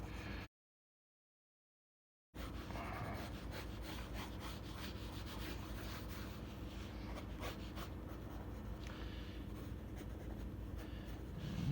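Watercolor brushes rubbing and scrubbing over thick paper, a continuous soft scratchy stroking that stays close and steady after a short silent gap, with no talking.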